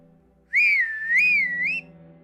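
A single clear, loud whistle in a wavering rising and falling tone, lasting just over a second, played as a sound effect in a told story about the forest, standing alone over a quiet background hum.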